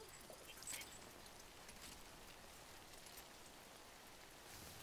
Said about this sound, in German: Und wir stehen natürlich im Regen dabei